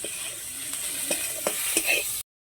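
Ginger paste and spice masala being fried and stirred in a pan, a bright continuous sizzle with a few scraping stirs, cutting off abruptly near the end.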